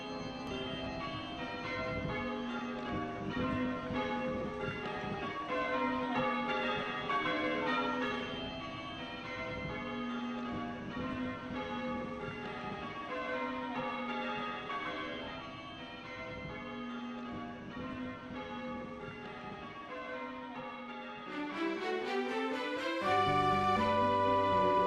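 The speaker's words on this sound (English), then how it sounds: "Many youngsters in New Ash Green showed interest in bell ringing and learnt on Saturday mornings the basics of ringing" Church bells peal in a steady sequence of repeated tolling strikes with ringing overtones, sustained for over twenty seconds before a faster descending run of bells at the end.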